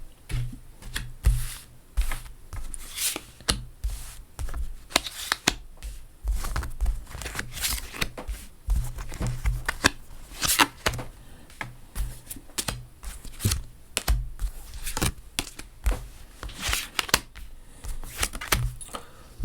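Oracle cards are laid out for a reading: irregular close taps, slides and soft clicks of cards being handled and set down, in uneven bursts with brief pauses between.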